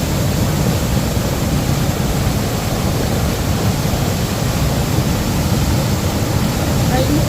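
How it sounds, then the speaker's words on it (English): Small cascading waterfall at Cedarville, a loud continuous rush of falling water heard close up, steady and unbroken throughout. "So there's a cute little fall coming off this side. Cascading waterfall."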